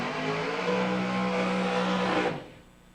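Drag race cars rolling back after burnouts at a dragway during a bracket race, a loud sustained engine drone close by that holds for over two seconds and then cuts away sharply.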